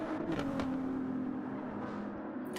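Ferrari GR3 race car in a sim racing game at Interlagos, engine droning steadily with a faint pitch glide, moderately loud and alone.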